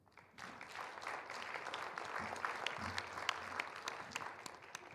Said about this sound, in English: Let's go ahead and amplify that applause for Mike Smail